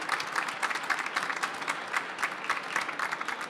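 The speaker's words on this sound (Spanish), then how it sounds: "Yo creo que se merecen un fuerte aplauso, tanto Pablo, Germán como Amaya." An audience claps for three panel speakers at the close of a talk at a startup conference, a steady patter of many hands that comes in irregular bursts and holds at a moderate, fairly close level with no voices over it.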